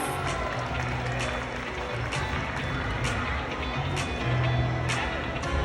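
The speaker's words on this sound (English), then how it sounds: "How about a big round of applause for all of our dolphin friends?" Audience applause rolls through an outdoor dolphin show stands at Six Flags Discovery Kingdom on the Fourth of July, a broad steady wash of clapping that holds at an even level for several seconds.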